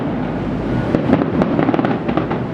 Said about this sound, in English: It's the one where you can hear the boom coming off the echo coming off the